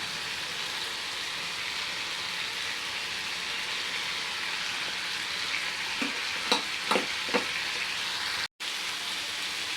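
Carrot vegetable dish cooking in a pan for a Khandeshi Bhogi thali, giving a steady, even sizzle and steam hiss throughout, with a few brief clinks of a spoon stirring near the end.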